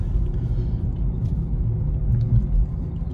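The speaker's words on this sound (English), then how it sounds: "It'd be interested in hearing some supercharger noises." A supercharged Dodge Hellcat engine idles with a deep, steady, loud rumble heard from close by, with no other sounds.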